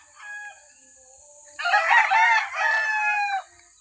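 A rooster crows loudly and close by in one long, wavering call, with a short cluck just before and a steady high insect-like hiss running underneath.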